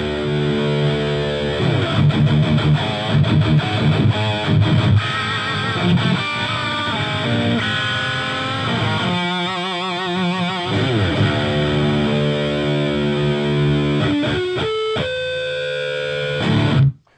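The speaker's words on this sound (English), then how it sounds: "So you can get big metal tones out of that, or just pump up the gain for solos" Heavily distorted electric guitar played loud through an amp's high-gain lead channel, shifting between chugging riffs, sustained notes and quick lead runs, ending abruptly.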